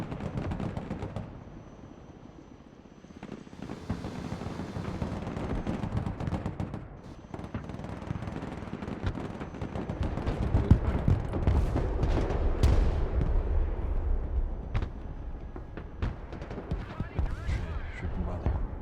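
Muffled gunfire and heavy, booming shots rumble on and off in a war video game set in a radioactive zone around a nuclear power plant, partly under conversation between players.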